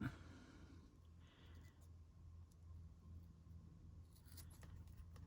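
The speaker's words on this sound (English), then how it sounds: "I'm going to just use my scissors and go in here and fix it." Scissors snip through faux leather during papercraft trimming, a few quiet close cuts against a faint background hum, with no talking.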